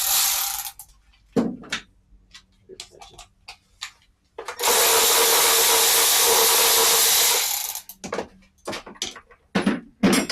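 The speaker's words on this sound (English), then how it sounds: "You want to grab your electric ratchet and probably need it for the back ones." An electric ratchet whirs in short bursts on engine bolts during a V6 KLDE engine swap into a Mazda Protege5 wagon, with scattered clicks and clanks and one long sustained run in the middle.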